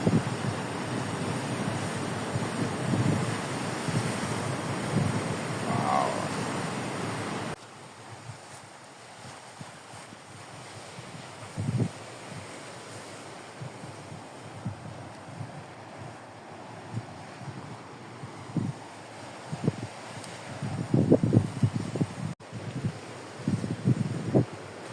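Ocean waves surge and crash against rocks under gusty wind on the Camino de Santiago coast, a roaring wash early, then quieter stretches broken by intermittent crashes and wind buffeting.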